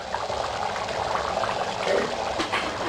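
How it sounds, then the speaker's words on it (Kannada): Rajma kidney bean curry bubbles in a pot at a steady boil, a continuous soft gurgling simmer heard up close with no talking. "ಇದು ಚೆನ್ನಾಗಿ ಕುದೀತಾ ಇದೆ."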